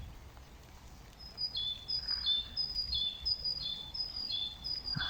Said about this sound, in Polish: Ale tutaj mają wyżereczkę te sikoreczki